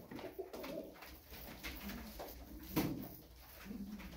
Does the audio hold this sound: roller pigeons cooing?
yes